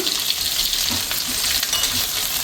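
Green chillies and curry leaves sautéing in hot oil for sundakkai vatha kulambu, a dense, even crackling sizzle close by with faint stirring, no voices.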